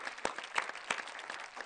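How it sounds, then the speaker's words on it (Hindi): Brief burst of audience applause for poet Nazia Naseem at a Hindi poetry gathering, scattered claps with a few sharper hand strikes, fairly faint and short. "तो नसीम जी, हम सब आपके लिए तालियां बजाते हैं।"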